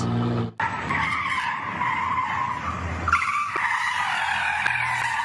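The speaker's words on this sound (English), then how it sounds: "Watch as the driver of a white stolen Kia whips multiple U-turns in the middle of city blocks." A stolen white Kia's tires skid and squeal loudly through sharp U-turns on city streets, one long continuous screech with engine roar that briefly breaks and then starts again.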